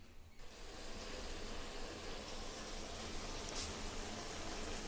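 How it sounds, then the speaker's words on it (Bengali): Shredded cabbage sautéing in a pan gives a dense, continuous crackling sizzle at moderate volume, steady throughout with no talking. "বাঁধাকপিটা এখন আমার হচ্ছে, আমি কষাচ্ছি একটু বাঁধাকপিটা"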